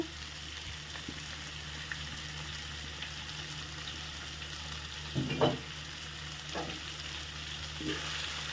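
Spring onion greens stirred into chicken cooking in a pan, with a faint continuous sizzle and a few scraping and clinking stir strokes midway.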